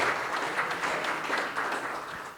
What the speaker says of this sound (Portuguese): Esse é uma salva de palmas para o Sayegh